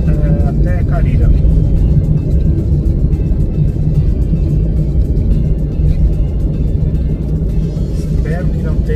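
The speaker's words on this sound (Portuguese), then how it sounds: "Espero que não tenha muito ruído da estrada, do carro" Car cruising on the BR-235 highway in Sergipe, with constant loud low road rumble and engine drone filling the cabin from start to finish, steady with no breaks.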